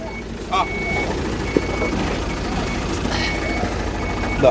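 A truck gives reversing beeps while backing in to unload mud bricks, the thin repeated tones sitting over a steady engine rumble as voices talk nearby.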